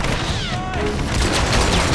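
Gunfire in the Hitman Absolution video game, a dense, continuous burst of shots and crashing impacts running through the whole moment, loud and busy with no clear gaps.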